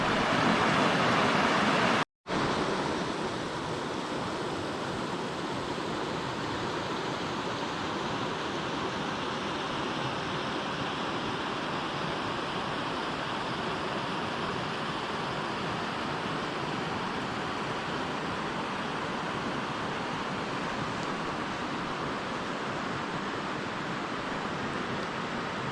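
A woodland river rushes steadily, a dense broadband wash that holds constant and close for the whole stretch after a brief cut near the start.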